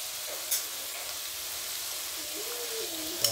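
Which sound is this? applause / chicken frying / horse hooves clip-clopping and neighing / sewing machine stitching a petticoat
chicken frying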